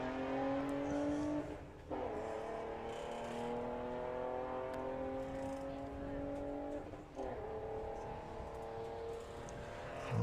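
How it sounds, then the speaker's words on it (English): Drag racing cars at Santa Pod, Volkswagen class eliminations, roar hard off the line at a green light, engines climbing through gears in long rising sweeps with a brief dip and a second surge, loud and continuous; a commentator speaks over them. "So we have green light drag racing."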